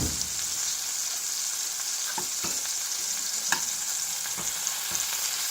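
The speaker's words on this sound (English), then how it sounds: "we're trying to just be right on the verge of burning that burger on the bottom" A burger patty frying in a pan on the edge of burning on the bottom, a dense, loud, even sizzle heard close, broken by occasional faint pops and crackles.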